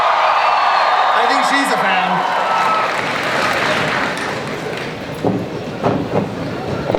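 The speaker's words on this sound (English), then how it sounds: "keep that applause going" Loud, dense applause and cheering from a packed Hall H crowd at the San Diego Comic-Con 2015 convention, filling the room with steady broadband roar under an amplified host's voice and some tonal sounds.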